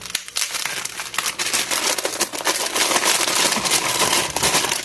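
Tape peeled off a closed cardboard box, heard as a loud, continuous crinkling and tearing rasp close up, surging in uneven pulls for several seconds.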